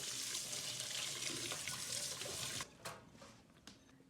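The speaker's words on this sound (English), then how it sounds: "Wash the dirt off the mushroom." A stream of tap water runs steadily while mushrooms are rinsed clean of dirt at a kitchen sink, then stops and leaves a few faint drips and splashes.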